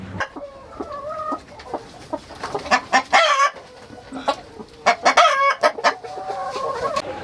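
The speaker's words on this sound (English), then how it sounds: "these are the stock of rainbow roosters" Rainbow rooster chickens cluck and roosters call in bursts close by on a small chicken farm, with one short crow-like squawk rising among the steady farmyard clucking.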